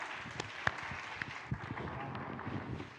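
Scattered, fairly faint clapping from a church congregation during a live-streamed Spanish-language service, with irregular individual claps over a soft background hiss.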